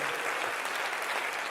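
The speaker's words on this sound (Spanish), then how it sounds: "Denle ese aplauso al Señor por el testimonio que nos deja Jocabed" A church congregation claps in sustained, dense applause at a women's worship service, steady and fairly loud across the whole moment with no voices rising above it.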